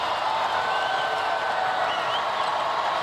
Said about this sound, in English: And the crowd at Reynolds enjoying themselves.